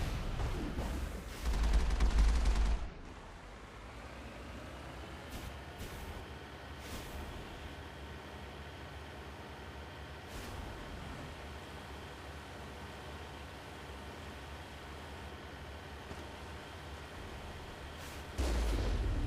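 Gunfire in the Mass Effect video game: a loud, dense burst of shots in the first few seconds, then a steady low rumbling background with scattered faint cracks, and another loud burst at the very end.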